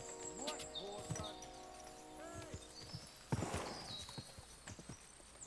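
Horse hooves clip-clop on the ground in Kingdom Come: Deliverance II, a steady near rhythm of hoofbeats with a brief whinny and outdoor ambience, partly under a man's speech.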